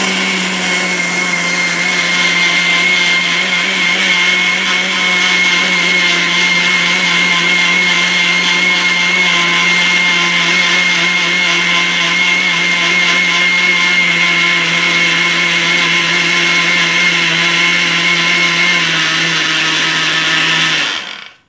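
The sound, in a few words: mixer grinder grinding rice into flour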